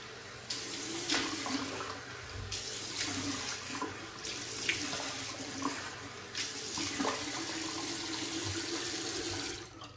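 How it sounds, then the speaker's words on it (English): A bathroom tap runs steadily for rinsing a face after a shave, a close, continuous water stream with faint splashes and shifts as hands move through it, stopping near the end. "let's rinse off a bit"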